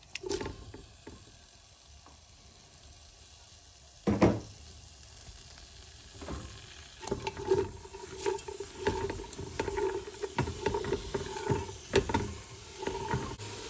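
Carrots, celery, onions and tomatoes cooking in a pan with a faint background sizzle, broken by a loud clatter early on and then repeated ticking pops and stirring knocks, close and alone without speech.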